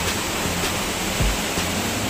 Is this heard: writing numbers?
no